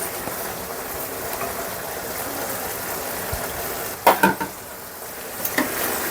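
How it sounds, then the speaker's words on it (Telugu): Mushroom masala curry stirred in a pan after adding coriander, a low steady sizzle with a few sharp spoon scrapes and clacks near the end. "బాగా కలిపేసుకుందాం."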